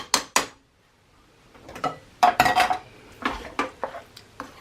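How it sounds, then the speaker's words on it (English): A spoon stirs a seasoned meat mixture in a pot for an Italian casserole. Sharp metallic clanks and scrapes come close and loud in irregular bursts, separated by short pauses. "All right, mix that all up."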